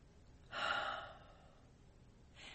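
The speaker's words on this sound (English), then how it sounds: "Take a deep breath." A deep breath drawn in once through the mouth, close and airy, about half a second long and then trailing off, with a second inhale starting at the end.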